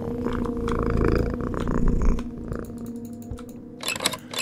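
Cat purring in the horror video game Befriended Curse, a steady low rumble through the first few seconds, followed by fainter clicks and a short bright rustling burst near the end.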